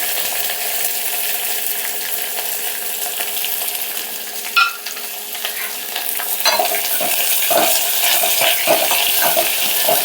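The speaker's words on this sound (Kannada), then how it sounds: "ಈರುಳ್ಳಿ ಕೆಂಪಾಗೋವರೆಗೂ ಹುರಿಬೇಕು." Onions fry in a pan with mustard seeds, coriander, curry leaves and chopped green chillies, giving a loud steady sizzle. Metal stirring scrapes and clinks join in partway through and continue.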